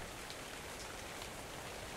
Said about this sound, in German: wenn ich draußen bin, regnet es immer.